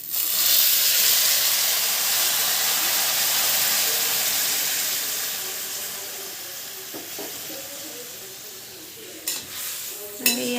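Water poured into a pan of frying local chicken curry in an Assamese home kitchen sets off a loud, close hiss of steam that slowly fades, ending with a few clatters of utensils.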